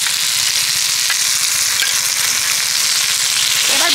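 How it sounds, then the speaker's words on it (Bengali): Mashed moringa leaf paste fries and is stirred in a hot pan, a loud steady close sizzle with scraping stirring strokes throughout and no voices. "এবার এর মধ্যে আমি দিয়ে দেব পেস্ট করে রাখা এই সজনে পাতাটা।"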